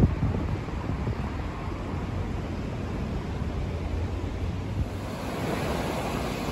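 The swollen Kitakami River, high after heavy rain, rushes in a broad, steady roar heard from a bridge, with wind buffeting the microphone and no voices over it.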